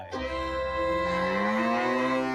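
A cow lets out one long, loud, drawn-out moo used as a sound effect, clear and alone with no other sounds.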